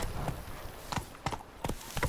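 Horse hooves clip-clop at a trot in The Witcher 3 video game, a handful of spaced, fairly close hoof strikes at moderate loudness as the horse eases its pace.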